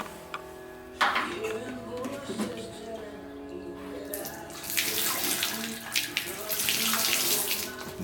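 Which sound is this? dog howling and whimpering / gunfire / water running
water running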